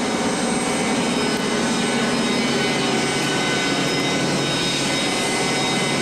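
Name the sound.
aircraft radio rack cooling fan running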